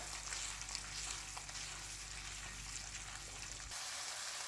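Soft fish pieces fry in masala in a pan for a Lahori fish curry, giving a steady close hiss and sizzle that runs loud and even, then the low rumble drops away near the end.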